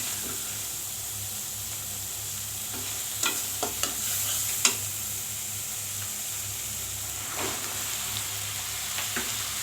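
Vegetables go into a pan of fried prawns and are stirred, giving a steady bright sizzle with scattered scraping knocks of the spatula, close and continuous.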